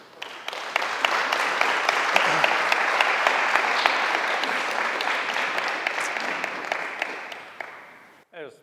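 Sustained audience applause fills a lunchtime talk on parks and recreation, a dense, loud wash of clapping that holds steady for several seconds, then fades and stops, with a brief voice at the very end.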